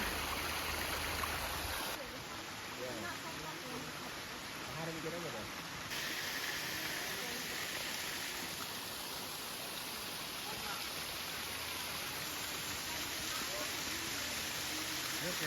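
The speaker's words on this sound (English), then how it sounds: "You could hear the water running and the sound of nature." A stream in Tuscany runs steadily with a soft, continuous rushing wash, fairly faint and even throughout, with a brief shift in level early on and a voice speaking faintly over it.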